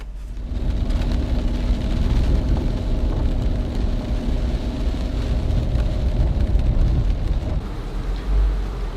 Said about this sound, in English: Nice timing, rain.